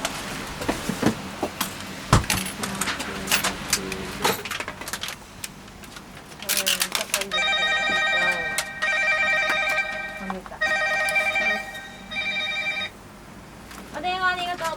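A reservation phone ringing in a jumbo yakitori kitchen car before opening, an electronic ring in long repeated bursts following clattering work sounds and people talking.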